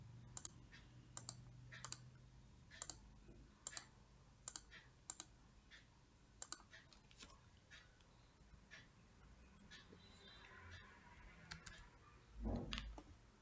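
Computer mouse clicks while working in AutoCAD, about a dozen sharp, close clicks in an uneven rhythm over the first half, then sparse faint clicks, with a brief soft thump near the end.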